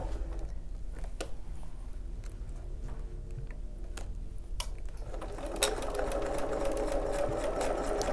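A sewing machine stitches steadily around the edge of an easy-to-handle fabric, its fast mechanical whir running on continuously, growing a little louder partway through, with no voices.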